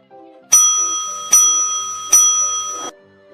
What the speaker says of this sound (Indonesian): bel masuk pun berbunyi.